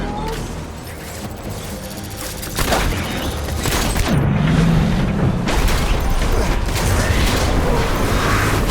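Gunfire in the video game Death Stranding: Director's Cut, with bursts of shots and mechanical clatter swelling louder midway and continuing as dense, overlapping fire.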